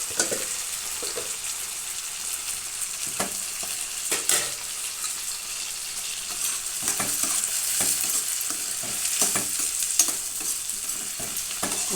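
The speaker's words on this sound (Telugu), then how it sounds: "ఇగో టమాటాలు కట్ చేసుకుని వేసేస్తున్నానండి." Chopped tomatoes sizzle and fry in a pan for egg curry, with a spatula scraping and stirring now and then. The steady hiss is close and continuous, with no talking.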